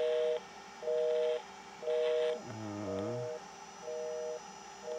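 Ameritec AM-7 central office simulator producing a low-frequency 350/440 Hz dial tone, a steady tone broken into repeated regular bursts, with a brief lower warbling tone in the middle.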